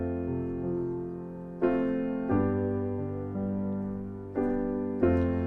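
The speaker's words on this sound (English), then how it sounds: "I've got this left hand arpeggio here where I'm doing just the root, the fifth, and the octave." Solo piano plays a left-hand arpeggio of root, fifth and octave under chords from a song, in a relaxed arrangement with sustained notes ringing into each other and several clear new attacks, close and alone.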